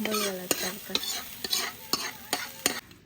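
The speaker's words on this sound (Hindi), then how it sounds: "तो अभी हमारा दाल का भी तड़का लगा दिया" Spices tempering in hot oil for a village-style dal tadka, a steady sizzle and crackle broken by regular stirring scrapes of a spoon against the pan, close and alone.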